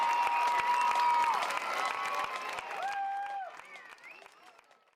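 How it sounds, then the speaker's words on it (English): A stadium crowd at a high school football game applauds the South Pontotoc marching band, a loud wash of clapping and cheers under a public-address voice, fading away toward the end. "how about another round of applause for the Pride of South, the South Pontotoc Finger Marching Band"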